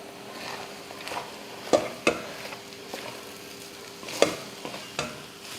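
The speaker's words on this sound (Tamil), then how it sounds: "இப்போ இதை நல்லா கலந்துடலாம்" Egg rice with soy sauce and salt is stirred and fried in a pan, giving a soft steady sizzle broken by several sharp scrapes and clinks of a spoon against the metal.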